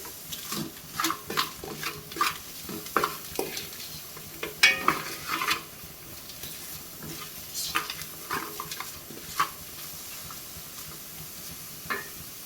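Ingredients for chicken manthi are sautéed in a pan, a light sizzle under frequent scraping and stirring clinks of a spoon against the metal, busier early on and quieter toward the end.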